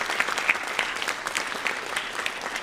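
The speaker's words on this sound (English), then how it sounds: "So let's give her a round of applause." Audience applause at a school research symposium's opening session, a full, even patter of many hands clapping throughout, steady and moderately loud with no talk over it.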